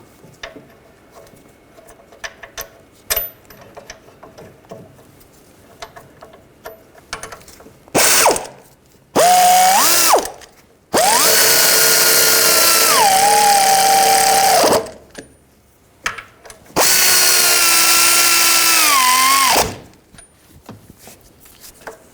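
Ratchet wrench and hand tools spinning the brake caliper bolts on a 2006-2010 BMW 550i during rear wheel bearing work, heard as three long loud bursts of fast clicking, with quieter scattered tool clinks before them and brief pauses between bursts.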